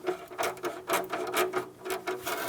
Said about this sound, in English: I'll tighten those bolts down